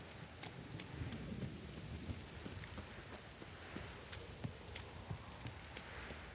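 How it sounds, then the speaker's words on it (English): Heavy rain hisses steadily in the Witcher 3 video game, with scattered drop hits and low rumbles that suggest distant thunder, all alone without speech. "This downpour's a bastard"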